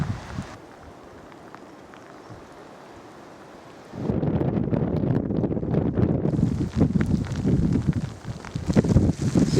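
Strong wind gusts across open country beside a sparse plantation, a steady low roar that swells into louder buffeting rumble against the microphone partway through.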